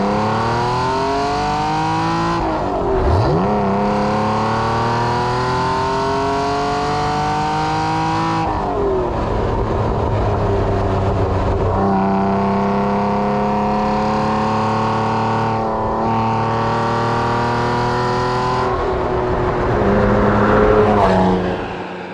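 A Ferrari Testarossa engine revs hard and climbs through the gears, its pitch rising with each pull and dropping sharply at the shifts. It is loud, close and continuous, with no talking.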